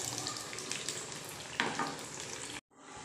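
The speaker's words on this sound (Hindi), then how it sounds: "इसे लो टू मीडियम फ्लेम के ऊपर इसे फ्राई करके रेडी करना है" Pua batter frying in oil over a low-to-medium gas flame, a steady dense sizzle throughout, briefly louder near the end before a short drop-out and a quieter return.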